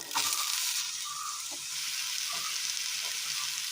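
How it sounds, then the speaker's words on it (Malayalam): Chopped brinjal frying in coconut oil in a pan for a Kerala curry, a bright steady sizzle with soft scraping stir sounds close by. "ശേഷം ഇതിലേക്ക് അരിഞ്ഞു വെച്ചിരിക്കുന്ന വഴുതനങ്ങ ഇട്ട് കൊടുക്കാം."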